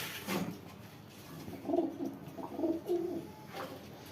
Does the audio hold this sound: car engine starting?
no